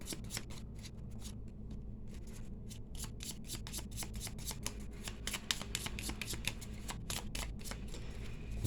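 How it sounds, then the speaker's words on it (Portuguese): Cigano deck cards are dealt one by one into piles on a table, a rapid series of soft, crisp slaps and slides, close and quiet, with no voice. "Vou organizar dois montes, colocando cartas assim."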